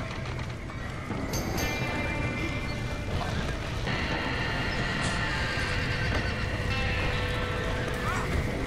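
A horse in the video game Red Dead Redemption neighs and whinnies within a dense, loud in-game mix of hooves and clatter that runs throughout, with a voice nearby.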